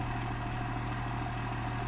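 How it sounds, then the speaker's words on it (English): A custom vehicle engine in BeamNG.drive idles steadily with a deep, even rumble and a constant low throb throughout, no talking. "But I love the sound of it idling."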